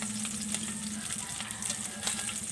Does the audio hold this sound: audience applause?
no